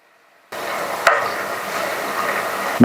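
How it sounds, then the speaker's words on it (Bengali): Radish and sweet potato frying lightly in oil, a soft sizzle that starts suddenly and carries on steadily, broken by a sharp utensil knock partway through and another at the end. "এরই মধ্যে মূলো রাঙা আলু দিয়ে হালকা করে ভেজে নেব"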